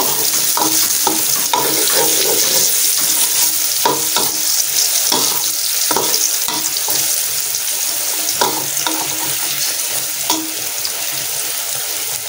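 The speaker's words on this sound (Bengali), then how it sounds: "মেয়ের আলু ভাজাটা একটু নাড়াই দেই।" Potatoes fry in a pan with a steady close sizzle, while a utensil stirs them in repeated scraping strokes over the continuous hiss.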